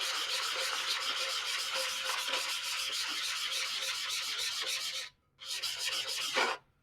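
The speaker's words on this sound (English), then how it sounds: "So just continue to sand it down" Sandpaper rubbing hard against a tumbler cup in quick, steady back-and-forth strokes, loud and close, with a brief pause near the end before a final burst of scraping.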